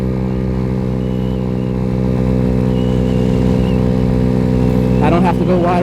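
Venom X18 50cc motorcycle engine while riding at about 7,600 RPM and near 45 mph, a loud steady high-revving buzz with wind rumble, close and continuous, and a voice talking over it near the end.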